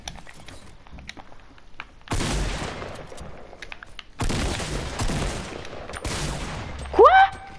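Bursts of video game gunfire erupt in three loud volleys separated by quieter stretches, followed by a brief sharp rising mechanical tone at the end.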